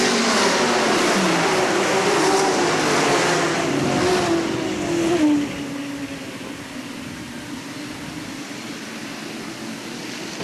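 Sportsman race cars roar around Hales Corners Speedway, a loud blended engine drone with a pitch sweeping past, easing off to a steadier, softer rumble in the second half.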